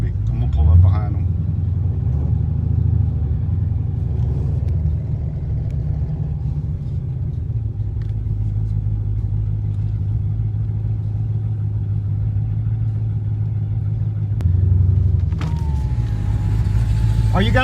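A Jeep Trackhawk's engine rumbles steadily while driving, a deep continuous low drone close to the microphone with slight swells, as a driver lines up for a street race against a Stage 5 BMW.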